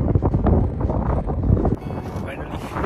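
Strong wind buffets the microphone on a snowy mountain top in the Black Forest, southern Germany, a loud, continuous rumbling roar with gusty surges throughout.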